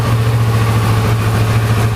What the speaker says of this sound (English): then I'll go ahead and start up the motorcycle